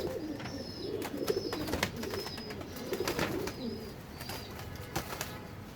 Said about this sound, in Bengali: কবুতরটা এই যে দেখেন, এটা যারা নেবেন নিতে পারেন।